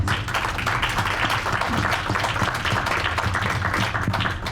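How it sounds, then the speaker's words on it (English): An audience at a panel discussion on grassroots leadership in the African-American community gives a sustained round of applause, a thick, continuous clatter of many hands in a room. "let's just give them all a round of applause"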